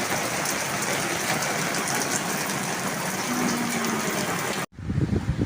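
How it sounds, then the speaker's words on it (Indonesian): Heavy rain pours steadily in front of a house doorway, a dense continuous hiss close by that cuts off abruptly near the end. "Hujan deras."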